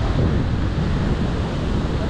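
Sea waves wash onto a Goa beach lined with coconut palms, a loud, steady roar of surf mixed with heavy wind buffeting the microphone throughout.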